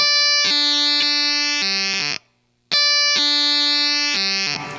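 Electric guitar through a ZVEX Reverse Fuzz Factory pedal gives a buzzy, Velcro-like fuzz: two held phrases of gritty sustained notes with a brief silent break between them, loud and close.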